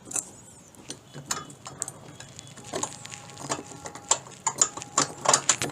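Metal nut and bolt being tightened with a washer on a Prime 4CS1 screen printing machine during assembly, giving small scattered clicks and ratcheting taps at close range, fairly quiet, with no talking.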